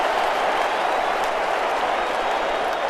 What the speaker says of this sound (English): This Viper crowd, one of the loudest this preseason.